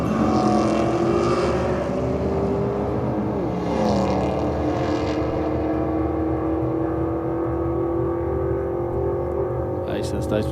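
A Holden VF drag car at a no-prep drag strip, a sustained engine roar with rising pitch heard from a distance, a track announcer talking over it throughout.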